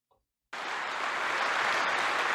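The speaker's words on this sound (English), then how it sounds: "Literally, they're clapping for hell." A crowd at an NRA event bursts into sustained applause after a brief moment of quiet, a dense steady wash of clapping that stays loud and even to the end.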